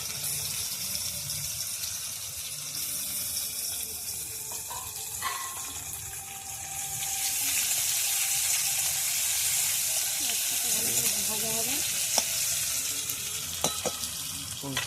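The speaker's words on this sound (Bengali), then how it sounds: "এবার গেল জিরে গরম তেলে ছাড়া হলো পেঁয়াজ" Onions and cumin sizzle steadily in hot oil, a continuous hiss that grows louder and brighter partway through, with a few faint clinks and light kitchen noises scattered over it.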